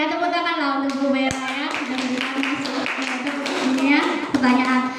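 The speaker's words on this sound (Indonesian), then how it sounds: "Tepuk tanganlah untuk Bu Mera." A group of teachers claps steadily for several seconds at a school training session, a close round of applause with a voice speaking over it.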